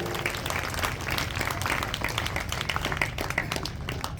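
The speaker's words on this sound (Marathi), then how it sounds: "जरा गोंधळी सरांसाठी टाळ्या होऊन जाऊ द्या" Applause from an audience of children for a teacher at a school storytelling and poetry session: fairly faint, dense, steady clapping that continues throughout.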